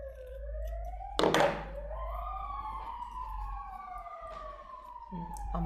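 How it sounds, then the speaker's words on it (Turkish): Ambulance and fire engine sirens pass by outside, wailing tones sweeping up and down and overlapping, with a sharp thump partway through. "Ambulans geçiyor. Ay itfaiye geçiyor."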